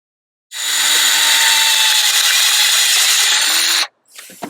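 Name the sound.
power drill drilling holes in EGR actuator housing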